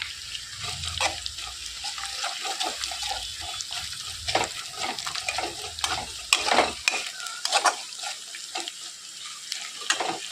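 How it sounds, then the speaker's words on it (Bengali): Garlic paste hits onions already fried in a pan, setting off a steady close sizzle with scraping stir strokes and a few sharper spatters, no talking. "পেঁয়াজটা ভাজা হয়ে গেছে এবার আমি এর মধ্যে দিয়ে দিচ্ছি রসুন বাটা"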